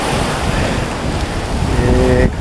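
Ocean surf washes steadily onto Futamiura beach on Ise Bay, loud and continuous with heavy wind buffeting the microphone.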